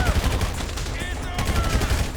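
Rapid, punchy gunfire bursts crackle through a firefight in GTA 5, layered with dense battle noise and faint voices in the mix.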